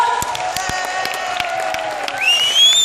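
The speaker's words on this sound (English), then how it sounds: "huge round of applause" Dense applause and cheering from a comedy club audience after a stand-up set, continuous clapping with whoops rising toward the end, with a sustained whistle-like tone.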